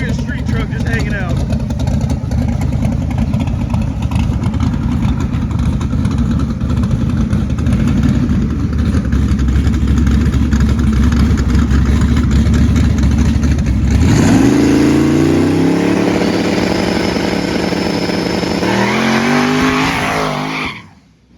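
A 1,000-horsepower turbocharged LS truck rumbles loudly at a steady idle, then launches into a hard, rising acceleration roar for a half-track pass that fades away at the end.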